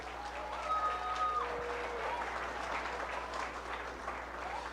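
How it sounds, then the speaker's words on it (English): Round of applause from a county fair audience for Farm Bureau ambassador contestants, continuous clapping of many hands at moderate volume, with a faint whistle-like tone early on and a steady electrical hum beneath. "Let's give these all one more good round of applause."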